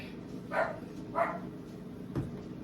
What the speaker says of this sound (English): that's what they're barking about